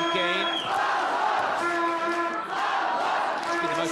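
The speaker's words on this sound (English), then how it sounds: "Plenty of support from the crowd." A boxing crowd at a Kazakhstan versus Azerbaijan bout roars and cheers in support of the local boxer, a dense, sustained wall of voices with rising shouts, while a commentator talks over it.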